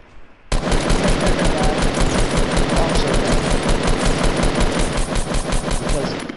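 Video game gunfire bursts in suddenly and keeps going as a loud, rapid, sustained automatic-weapon rattle with a steady rhythm, close and dominant for the whole stretch.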